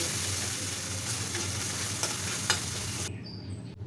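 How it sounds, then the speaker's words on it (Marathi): Garlic, ginger, green chili and cumin paste sautés in a hot pan for kadhi gole, a steady close sizzle with faint stirring scrapes that cuts off abruptly near the end, leaving near silence. "लसूण आले मिरची आणि जिऱ्याची पेस्ट इथे टाकून घ्यायची आहे तर आता इचा कच्चेपणा जाईपर्यंत आपल्याला हे चांगले परतून घ्यायचे आहे"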